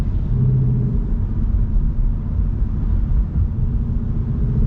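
A nimble car rolls past close by, its low engine rumble steady and loud throughout with no talking over it.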